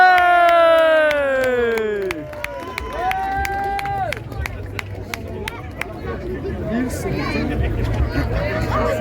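Crowd at a Superstar Wrestling catch show in Thuin applauding the wrestlers: scattered claps and crowd chatter rise after a stretch of loud talk, with voices continuing over them.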